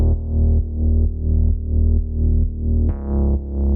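Layered synth basses, one from a UAD Minimoog preset, thump out in a steady rhythm of deep, sustained notes with sidechain-style dips between them, ending on a brighter, harder-hitting note.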